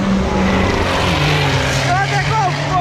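A Volkswagen Golf revs hard and accelerates away at a drag race in Mostar, a loud engine roar rising in pitch, with spectators talking over it.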